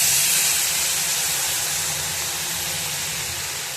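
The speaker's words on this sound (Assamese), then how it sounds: "এতিয়া মই ইয়াতে পানী দি দিম" Water poured onto fried vermicelli in a hot pan throws up a loud, steady steam hiss that fades slowly, heard up close with no talking.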